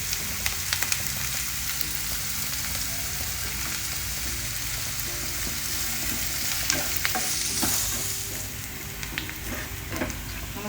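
Two medium onions fry with salt in a pan, giving a steady, close sizzle broken by repeated scraping and clattering as they are stirred.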